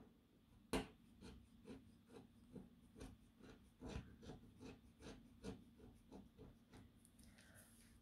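A coin scratches rhythmically at an Advent calendar scratch card, a quiet close series of short dry rasping strokes with one sharp tap near the start.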